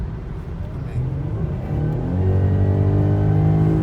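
An engine droning from inside a 2016 Jaguar XF rises in pitch and grows louder as the car picks up speed, with a voice in the background.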